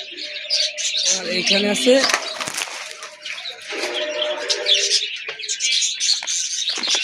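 Racing pigeons, blue bar racers, cooing and chirping close by, with someone speaking over the birds.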